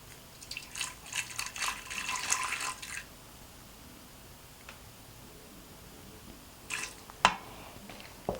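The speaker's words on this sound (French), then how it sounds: "nous allons ajouter 150 ml d'eau" Water being added to cut mushroom material while preparing mycelium spawn: a run of soft splashing and trickling for about three seconds, then quiet, followed by a few small drips and a sharp tap near the end.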